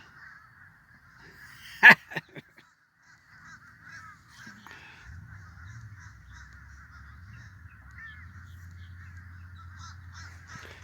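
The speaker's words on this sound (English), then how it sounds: "Listen to those crows. They're like all over the place." A few sharp crow caws ring out early, then scattered distant cawing continues over a quiet outdoor hush with a low rumble later on.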